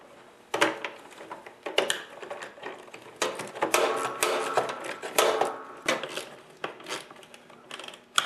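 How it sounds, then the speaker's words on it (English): A ratchet tightens bolts on the chute gear of a Murray Craftsman snowblower, giving close, uneven bursts of clicking and metallic rattling that start and stop over several seconds. "I'm going to grab my ratchets and finish tightening them up."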